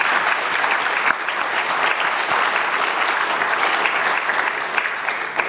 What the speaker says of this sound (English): Can we have a round of applause for these amazing people?